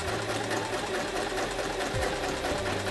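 A Kreshay sewing machine stitches fabric with a fast, steady mechanical whirr and rapid needle chatter, close and continuous, with a brief change in pitch partway through.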